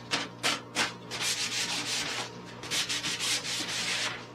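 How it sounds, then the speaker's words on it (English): Sandpaper of 220 grit rubs by hand across a primed wooden table top in steady, close back-and-forth strokes, a rough scratchy hiss with rhythmic swells and no voices. "I am going to go ahead and sand this piece now that the primer's dried."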